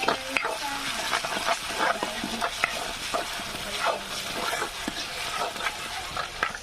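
Garlic and masala fry in hot oil, likely over a wood-fired stove while making a prawn curry, with a close, continuous sizzle and crackle broken by quick scraping stirs of a spoon through the pan.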